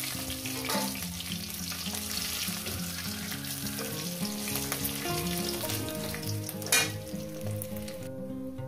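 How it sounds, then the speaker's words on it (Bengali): Fish frying in hot oil, a dense steady sizzle heard up close, with a brief louder crackle near the end and faint background music. "তো বন্ধুরা, মাছগুলো আমি ভেজে নিয়েছি।"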